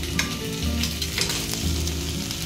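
Chopped tomato sizzles in a hot pan while it is stirred for a raw banana kofta curry. The frying is loud and steady, with scraping stir strokes over it and no talk.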